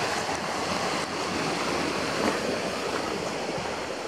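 Water gushing hard through a 3/4-inch hose from two non-electric water pumps joined together, a loud, constant rushing roar that stays steady throughout with no talking.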